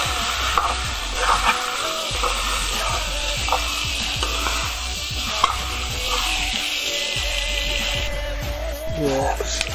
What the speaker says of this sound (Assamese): এতিয়া এনেকৈ 2 মিনিট হিলাই থাকিম, ফটাই দি এনেকৈ লৰাই থাকিম।